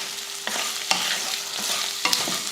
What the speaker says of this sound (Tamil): கொஞ்சம் உப்பு சேர்த்துட்டு இப்போ கிளறி விட்டுருவோம்